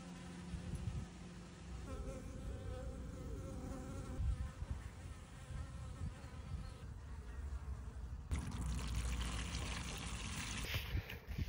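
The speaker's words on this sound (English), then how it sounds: "Some of my bees are taking a well-deserved cool drink." Close buzzing of many honeybees drinking at a garden water source, steady and droning, with a faint trickle of water underneath and no voices.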